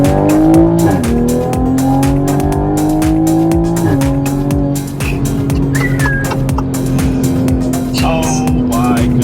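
A 2020 Toyota Supra Launch Edition revs up hard through the gears, its engine note climbing and dropping sharply at each shift, loud and close from inside the car, with a brief voice partway through.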